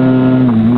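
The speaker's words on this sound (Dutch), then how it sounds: "mijn brommer is niet zo indrukwekkend met reffen" A moped engine idles and revs lightly while the rider plays with the clutch, a steady buzzing drone close to the microphone with slight shifts in pitch and some wind noise.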